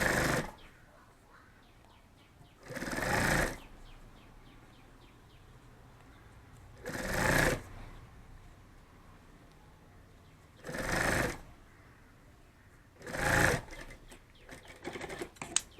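A sewing machine stitches the sides of a cloth bag of the kind sold on trains and footpaths, firing in five short, loud bursts spaced by longer quiet gaps.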